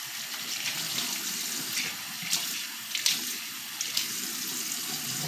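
Water runs steadily from a sink tap during handwashing after cleaning chicks, a close, continuous hiss with faint splashes and small knocks over it.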